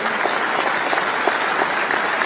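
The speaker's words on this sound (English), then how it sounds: "A big round of applause for him" An audience applauds steadily throughout at an Institute of Chartered Accountants of India convocation ceremony, dense even clapping from a large hall with no voices over it.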